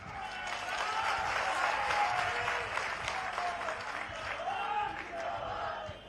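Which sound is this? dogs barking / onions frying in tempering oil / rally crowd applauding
rally crowd applauding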